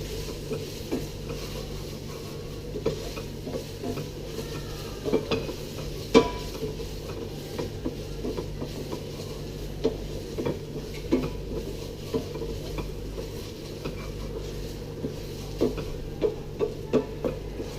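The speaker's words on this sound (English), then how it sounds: "it's very important now to cook out that tomato paste" Tomato paste cooks in a pan for a spaghetti bolognese while a spoon stirs it, giving steady soft scraping and clinking against a low constant hum, with occasional sharper taps and no talking.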